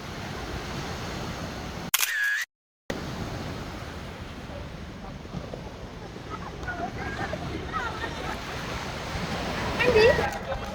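A camera shutter clicks sharply once on a beach by a seaside resort, over steady surf and wind, with people chatting nearby and a brief dropout in the sound.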